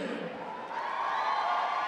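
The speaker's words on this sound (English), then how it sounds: "you hear the crowd going wild" A crowd at an MMA fight in Butte roars and cheers, a dense sustained wall of voices that swells louder toward the end.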